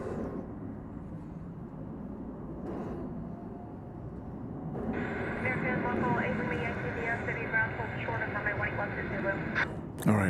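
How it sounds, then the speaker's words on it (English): A Qatar Airways airliner taxiing at Dallas Fort Worth Airport at night gives a steady broadband engine roar, joined midway by a brighter whining jet tone that rises and holds, moderately distant and steady throughout. "Qatar aircraft is on the move now."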